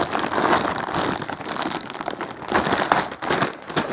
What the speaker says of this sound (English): So let's just open the plastic bag to see